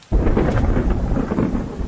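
A thunderstorm on a rainy night in the video game Wargroove: thunder breaks in suddenly and rolls on loudly, mixed with a dense hiss of heavy rain and no voices.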